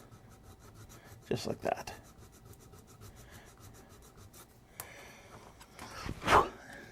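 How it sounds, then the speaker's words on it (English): A plastic model kit part for a U.S.S. Reliant build being sanded by hand: short raspy rubbing strokes in a couple of bursts, close and fairly quiet, with a brief spoken remark. "just kind of give it a bit of a sand"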